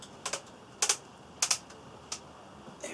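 Benelli Super Sport semi-automatic shotgun end cap clicking as it is tightened, a series of sharp close mechanical clicks in small bursts against a quiet background.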